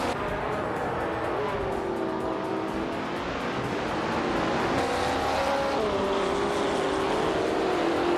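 Several 1966 McLaren Elva Chevrolet prototype race cars roar off the start in a racing video game, a loud continuous engine drone with pitch rising and shifting as gears change, steady throughout with no talking.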